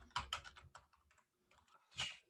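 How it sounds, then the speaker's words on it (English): Quick bursts of keystrokes on a computer keyboard during a seminar about circuit simulations: a cluster of close clicks, a short pause, then another sharp flurry near the end. "If I could just type on the right keyboard."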